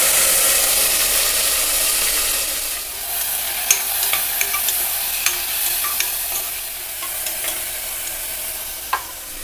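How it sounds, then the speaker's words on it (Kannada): Chopped tomatoes added to a hot frying pan with curry leaves, a loud steady hiss and sizzle that eases slightly as scattered utensil clicks and taps of stirring come through. "ಸಣ್ಣದಾಗಿ ಹಚ್ಚಿಟ್ಕೊಂಡಿರೋ ಎರಡು ಟೊಮೆಟೊನ ಇದರಲ್ಲಿ ಸೇರಿಸ್ತಾ ಇದ್ದೀನಿ"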